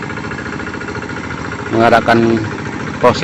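A hand tractor engine runs steadily while levelling a rice paddy in Deli Serdang, a continuous near mechanical drone under a voice talking.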